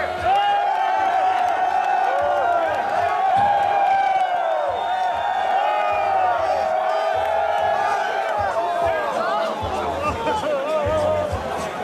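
A crowd at a bikini contest cheers, whoops and applauds in loud, continuous hubbub, with some talk mixed into the noise.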